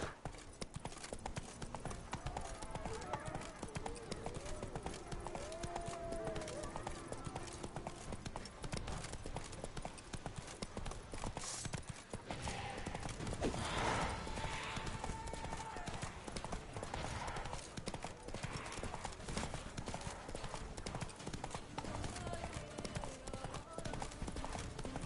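Hoofbeats of the horse Roach galloping in The Witcher 3: Blood and Wine, a steady rapid clip-clop running throughout under game music and ambience, with a faint voice briefly in the middle.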